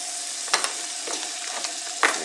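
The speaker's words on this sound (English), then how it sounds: "So let me put the butter on there, get it ready for the sausages." Butter sizzling on a small Ozark Trail cast iron griddle, a steady close hiss with a few sharp pops and crackles scattered through, no talking.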